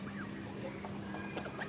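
Domestic ducks, including a drake, forage on grass at a village home in the afternoon, giving faint scattered quacks and clucking calls over a quiet outdoor background.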